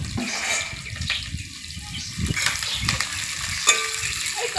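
Onions, curry leaves, fenugreek seeds and spices fry in hot oil in a pan, a close, steady sizzle and crackle with a voice speaking at times.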